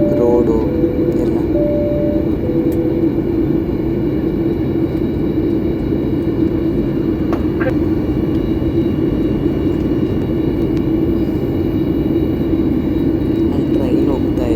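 A steady, loud roar of jet engines and airflow fills an airplane cabin as it descends toward Delhi airport, with a few faint tonal chimes early on and no break in the drone.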